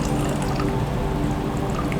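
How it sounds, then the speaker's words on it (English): Second infusion of Sejak tea pouring steadily from a teapot, a continuous close splashing trickle of liquid held at an even level from start to finish. "That's not the pour I wanted."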